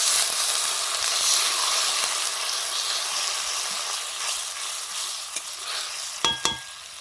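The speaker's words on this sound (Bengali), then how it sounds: "জল দিয়ে মশলাটা কষাবো" Spice paste frying with water in a pan, a steady dense sizzle throughout with light stirring scrapes and a couple of sharp clinks near the end, close and fairly loud.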